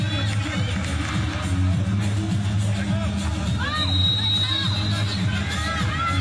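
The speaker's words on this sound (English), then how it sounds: "And the crowd are enjoying it" Crowd at a 2014 FIBA World Championship basketball game between the Czech Republic and Japan, a steady roar of arena hubbub with whoops and cheers rising above it, alongside squeaks and thuds from the court, under commentary.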